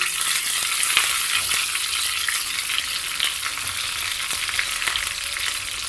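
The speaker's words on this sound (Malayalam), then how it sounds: "അപ്പോൾ നമ്മുടെ കടുക് വറുത്തതും റെഡി ആയിട്ടുണ്ട്." Mustard seeds, dry red chillies and curry leaves fry in hot oil for Kerala pazham pulissery, a steady close crackling sizzle with faint popping and stirring, no voices.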